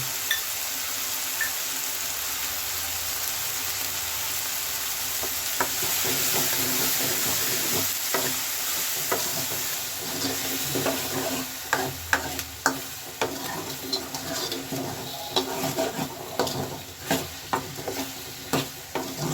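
Garlic cloves and small onions frying in a pan for a tangy gojju, a steady close sizzle broken by growing bursts of spoon stirring and scraping in the second half, with no talking.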